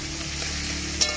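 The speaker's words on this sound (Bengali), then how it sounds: "পেঁয়াজগুলো ভালোভাবে হতে থাকুক এই তেলের মধ্যে।" Onions frying in oil in a home kitchen pot, a steady close sizzle with a brief louder crackle or clink near the end.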